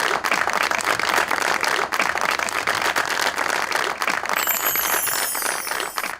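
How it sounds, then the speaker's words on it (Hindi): Sustained studio audience clapping on a Pakistani TV talk show's Mother's Day special, a dense, even patter of many hands that holds steady throughout, with a faint high tone entering near the end. "बहुत सारी तालियां हसन साहब की वालदा की।"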